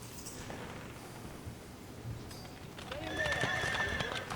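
Horses whinny and hooves clatter in a Civil War battle scene, with cavalry approaching; a shrill neigh rises near the end over a steady rumbling, busy background.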